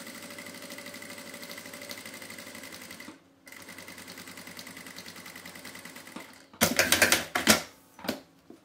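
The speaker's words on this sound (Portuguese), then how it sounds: "agora eu vou costurar na parte de fora." Sewing machine stitching bias binding along the outside of a baby's wipes and diaper case near a zipper, a steady close mechanical whir that briefly pauses, then speeds into louder rapid bursts before stopping, with no talking.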